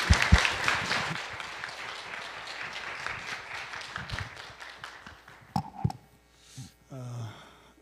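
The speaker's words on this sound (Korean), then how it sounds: "우리 강사 목사님 나올 때 우리 뜨거운 박수로 환영해 주시기 바랍니다" A church congregation at a New Year revival meeting claps warmly to welcome the guest pastor, steady broadband clapping that thins and tapers off, with a few scattered claps and faint voices at the close.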